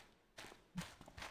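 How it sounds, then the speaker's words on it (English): Guard footsteps in the Thief video game, several faint, measured steps at a walking pace, sounding at a distance over a quiet background. "I hear cop footsteps."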